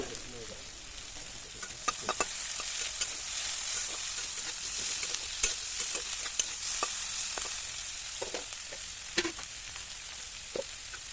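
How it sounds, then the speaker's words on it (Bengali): Chopped onion fries in hot oil in a pan for a spicy tilapia curry, giving a steady close sizzle broken by frequent sharp clicks and scrapes of stirring. "কুচানো পেঁয়াজ দিয়ে পেঁয়াজটা আমরা ভালো করে ভেজে নেব।"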